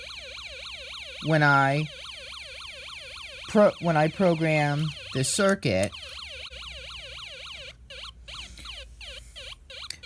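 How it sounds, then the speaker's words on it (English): A Snap Circuits electronic kit running the Pent-Light Funky Siren project gives a warbling, swooping siren tone that repeats steadily throughout, with someone speaking briefly over it in bursts. "Project 68 is called Pent-Light Funky Siren."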